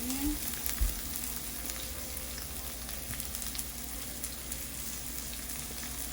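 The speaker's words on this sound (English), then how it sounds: "olive oil, let's add garlic first. And then the onion." Garlic and then onion frying in olive oil in a pan, a steady, fairly quiet sizzle and crackle running throughout with a brief thump near the start and no talking.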